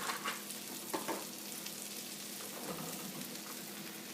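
Mushrooms cooking down in a saute pan for chicken marsala, a steady soft sizzle and crackle with a few brief louder pops near the start, close by and with no voices.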